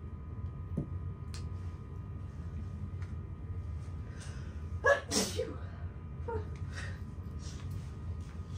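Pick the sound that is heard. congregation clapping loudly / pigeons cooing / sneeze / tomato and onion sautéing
sneeze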